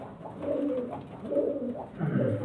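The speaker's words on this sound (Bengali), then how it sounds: "খুব সুন্দর কোয়ালিটির পায়রা।" Pigeons in a home loft give soft, low cooing phrases in three swelling bursts, fairly faint and close, with no voices.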